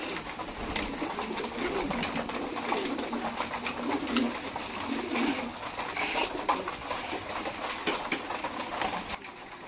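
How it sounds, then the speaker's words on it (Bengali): Hungry pigeons cooing in a loft while waiting to be fed, several birds giving low repeated coos at moderate distance over a constant rustling background, with no talk. "খাবার দিতে আজকে অনেক দেরি হয়ে গেছে দেখেন ছটফট করতেছে কবুতর খাবার জন্য"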